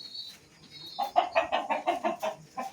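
A rooster clucks close by in a rapid run of short, throaty calls after a brief quiet start, with no talking over it.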